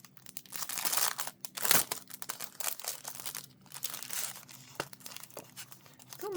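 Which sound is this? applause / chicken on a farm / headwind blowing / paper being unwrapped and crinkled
paper being unwrapped and crinkled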